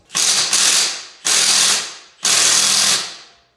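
An impact wrench works stuck lug nuts off the wheel of a long-sitting Nissan 240SX, three loud, close bursts of rattling hammering, each about a second long with short pauses between.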